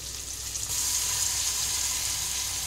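Ginger paste hits hot oil in a pan with turmeric and young jackfruit, giving a steady, bright, hissing sizzle that stays even and close throughout with no voices.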